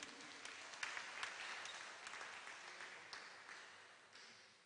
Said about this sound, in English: Give another round of applause, please.